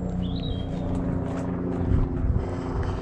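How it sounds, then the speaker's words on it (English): An airplane passing overhead outdoors in England, a broad, steady engine roar that fills the whole clip, loud and continuous with no talking over it. "Oh, another airplane there."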